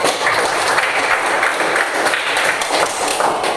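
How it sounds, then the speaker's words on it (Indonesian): Classroom of ninth-grade students clapping after a presentation on human growth and puberty, a dense continuous burst of hand claps filling the room, loud and close throughout with no talking. "tepuk tangan untuk"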